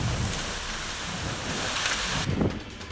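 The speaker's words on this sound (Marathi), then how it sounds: "नागपूर शहरातील पारडी शांतीनगर भागामध्ये अवकाळी पाऊस बरसला." Unseasonal rain pours down in the Pardi Shantinagar area of Nagpur, a steady broadband hiss of falling water that swells slightly near the end of the short stretch.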